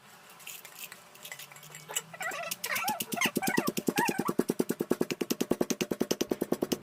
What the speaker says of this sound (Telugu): కచ్చా పచ్చాగా ఉండడం కోసం నేను ఇక్కడ రోట్లో దంచుతున్నాను.